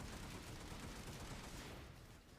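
Dense, continuous gunfire from the infantry shooter Infantry Company, a steady fusillade of rapid shots packed together with no clear gaps, loud and even through the clip, easing slightly near the end.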